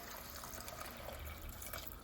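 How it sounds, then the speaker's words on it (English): A cup of water poured into a cooking pot on the stove, a steady soft splashing and trickling stream that runs throughout, fairly faint and close, with no talking. "We're just gonna add 1 cup of water."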